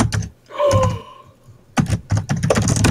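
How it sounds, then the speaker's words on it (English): Loud computer keyboard typing during a gaming livestream of Ultimate Parkour Master: close, clattering bursts of keystrokes at the start and again densely in the last second and a half, with a quieter stretch between. "loudest keyboard of all time"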